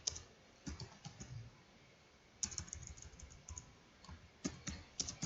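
Computer keyboard typing while entering statistics data, with short bursts of close key clicks separated by pauses, then a denser run of taps, and no talking.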